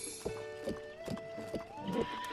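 A horse in The Legend of Zelda: Breath of the Wild clip-clops a few hooves close by and gives a short whinny, over a soft game music background, brief and fairly quiet.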